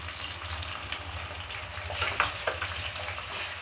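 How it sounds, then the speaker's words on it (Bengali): Marinated prawns with a spice paste fry in a pan, giving a soft, steady sizzle broken by a few scraping stirs and crackles, fairly quiet and close. "এবার আমি চিংড়ি মাছটা রান্না করে নেব।"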